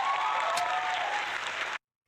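A burst of dense hand clapping rattles on continuously for under two seconds, sounding like applause from several hands, then cuts off abruptly into silence.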